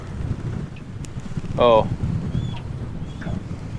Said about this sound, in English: that wind just gusted upstream, and it's pushing me